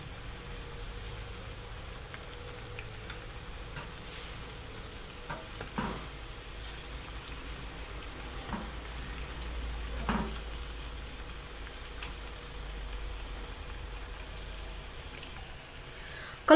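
Chocolate-filled ring donuts frying in a pan of hot oil, a steady soft sizzle with occasional faint clicks and light scrapes, no talking.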